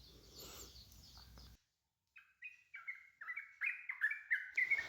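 Sooty-headed bulbul (trucukan) chirping in a series of short, bright, rising calls that grow louder and quicker, following a brief pause after a noisier stretch of birdsong.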